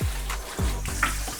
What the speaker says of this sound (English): Take a little water, spray it off real good.